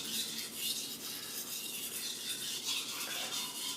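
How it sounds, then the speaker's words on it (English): A knife blade is drawn along a whetstone while a chip is repaired, a faint, steady, gritty rasping with a rhythmic back-and-forth swell, close and alone. "I'm kind of just sharpening the knife, going along the whole blade."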